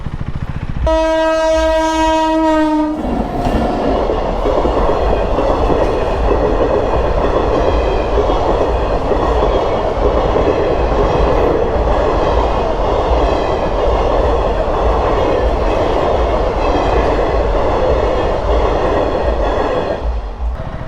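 A train passes a railway crossing on the road to a temple in Bidar. A loud horn blast opens, then the rolling rumble and clatter of the passing cars continue steadily, close by, for a long stretch.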